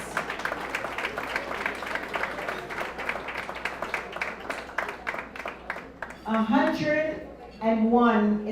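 Dense audience applause fills an awards ceremony for a woman honoree at a Women of Excellence event, steady for about six seconds before fading as a voice begins talking.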